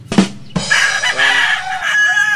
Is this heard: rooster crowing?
yes